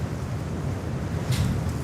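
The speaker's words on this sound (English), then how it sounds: "I would say Mike Tyson wind gusts." Strong wind blows by the water at a city airport, a steady low buffeting roar against the microphone that swells into a louder gust near the end.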